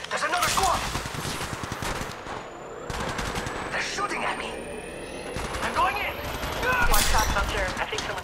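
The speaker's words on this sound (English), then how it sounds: "They're shooting at me!" Rapid bursts of automatic gunfire crackle through an Apex Legends Mobile firefight, dense overlapping shots with brief lulls, while a game voice calls out under the shooting.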